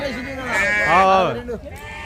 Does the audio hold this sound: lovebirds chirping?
no